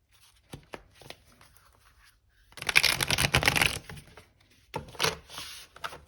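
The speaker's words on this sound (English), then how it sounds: "Okay, we'll do one last shuffle." A few soft taps, then a burst of tarot cards riffled together, followed by lighter shuffling clicks, close by and without speech.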